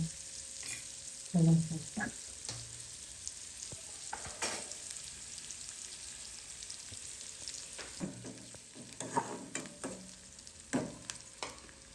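Onion fries in a pan for grated bitter gourd bhaji, a soft hissing sizzle punctuated by scattered scrapes and knocks of a spoon stirring, fairly quiet and close.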